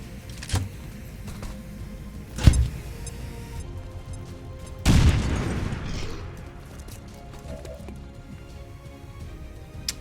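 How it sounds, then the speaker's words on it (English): A grenade goes off in XCOM 2 Long War with one loud, low boom that decays over several seconds. Two sharp thumps come just before it and quieter game noise follows. "Grenade out!"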